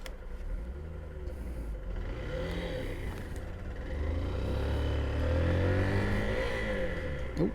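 Honda CB125F motorcycle engine pulling through a gear change, the engine note rising and dropping as the gear shifts, close and steady with a car passing nearby and no talk.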